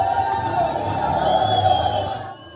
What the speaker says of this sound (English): people on the streets clapping and cheering on as the fighters marched and drove into the city center